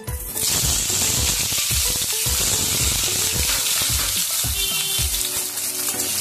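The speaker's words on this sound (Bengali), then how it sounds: "আলুটা একটু ভালো করে ভেজে নেব।" Potatoes frying in hot oil in a pan, a steady loud sizzle and crackle throughout with occasional stirring clatter, no talk.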